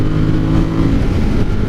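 A Ducati Monster 1200R motorcycle engine held at full throttle, a loud, steady, close roar with a deep rumble that swells slightly as the bike pulls hard.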